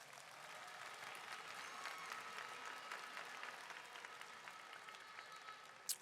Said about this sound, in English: Let's give our athletes a tremendous round of applause